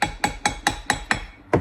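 An epoxy-coated glitter tumbler is tapped sharply seven times in a quick, fairly even rhythm with a short pause before the last knock; each tap is close, crisp and hard.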